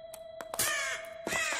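A cartoon crow in Shaun the Sheep caws sharply several times: short, bright, close calls, then two longer harsh caws, alone over a faint steady background tone.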